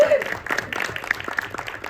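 An audience at a film trailer launch event claps in a scattered burst of applause, moderately close, with a voice talking over it.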